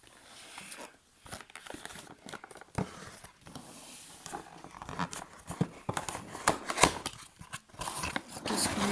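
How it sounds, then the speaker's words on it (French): A new simple headset with two jack plugs being unpacked, soft close rustling, crinkling plastic and cardboard taps in quiet, irregular bursts with no talking. "on va déjà ouvrir le casque."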